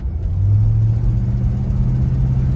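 A 1967 Oldsmobile Cutlass Supreme convertible with a 330 V8 accelerating on the road, a steady low engine rumble and drone that rises slightly in the first second, close and moderately loud, no talking.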